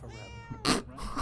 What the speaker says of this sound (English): I can meow